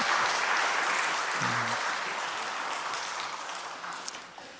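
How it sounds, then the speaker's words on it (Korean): A church congregation applauds during a Sunday service, a steady, fairly soft wash of many hands clapping that slowly fades toward the end. "다시 한번 큰 박수 부탁드립니다"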